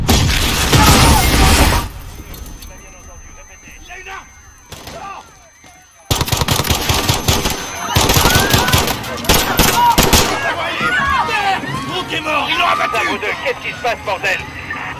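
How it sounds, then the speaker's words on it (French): Bursts of gunfire and explosive impacts from the Call of Duty Modern Warfare campaign, set around Piccadilly Circus, loud and dense at the start, a quieter gap, then renewed rapid shots and crashes over game voices. "Des coups de feu, plusieurs agents touchés."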